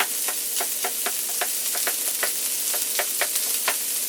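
Corned beef hash, broken up in a pan, fries with a constant crackling sizzle, punctuated by regular scraping strokes of a utensil pushing it around, close and alone.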